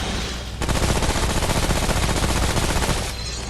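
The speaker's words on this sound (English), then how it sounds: "Submachine gun melting him like that" A submachine gun in the video game Remnant fires one continuous, dense, rapid burst of loud close gunfire for about two and a half seconds, with quieter background sound before and after.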